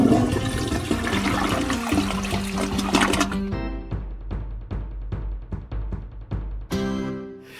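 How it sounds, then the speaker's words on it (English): A toilet flushes with a loud, close rushing and gurgling of water for about three and a half seconds, then a rhythmic pulsing sound takes over as the flush ends. "Flush that."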